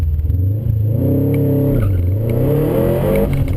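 Track car engine working the throttle through a long corner, loud and continuous, the pitch easing down mid-turn and climbing again on the way out.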